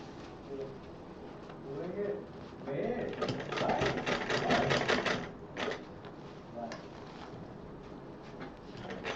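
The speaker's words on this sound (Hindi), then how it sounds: "इसको पूरी सिलाई चला दें।" Sewing machine stitching fabric for a purse, a fast rattling run of needle strokes that builds in the middle and stops and starts, fairly close, with someone talking over it.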